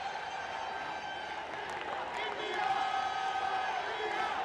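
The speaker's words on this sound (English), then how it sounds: "Huge amount of support for India here, and the crowd starting to find full voice." Crowd at a men's junior field hockey match between India and Canada in Lucknow, a broad distant roar of cheering that swells slightly, with a commentator talking over it.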